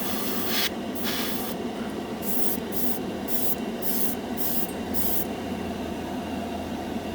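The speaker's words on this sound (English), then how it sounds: "Well, it goes on really good. It sprays kind of like the All Clad." Spaz Stix mirror chrome paint being sprayed, a close hissing spray heard in short bursts, several quick squirts between pauses, over a constant low background rumble with no talking.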